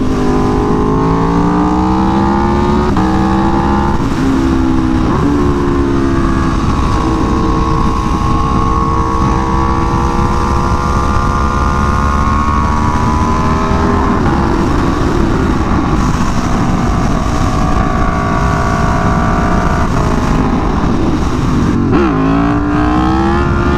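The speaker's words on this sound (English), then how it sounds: "that does help it produce a very nice sound when you get into the higher rev range" An Aprilia Tuono V4 motorcycle fitted with an SC-Project CR-T exhaust revs loud and close, its engine note sweeping up and down through the higher range. The raw, continuous roar is accompanied by wind buffeting on the microphone, with no voices.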